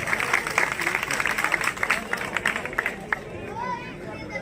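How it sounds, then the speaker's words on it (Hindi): A village gathering in Haryana applauds the elders being welcomed: scattered, irregular clapping mixed with crowd chatter and talk, moderately close. "जोरदार तालियों से अभिनंदन और स्वागत।"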